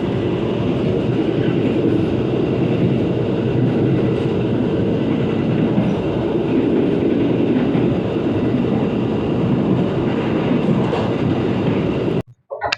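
KA Majapahit New Generation passenger train pulling into Kediri station, heard from inside the carriage as a loud, steady rumble of wheels and rail noise with a brief drop-out at the very end.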